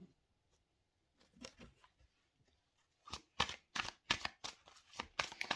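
Oracle cards being handled and set aside during a reading, soft quiet rustles at first, then a run of crisp, closely spaced card slaps and shuffling snaps heard up close.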